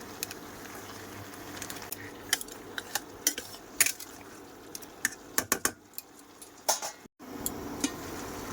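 A metal spoon stirs vegetables with cumin powder in a pan, scraping and clinking against the cookware in irregular taps and clatters over a quiet background, with a brief pause near the end.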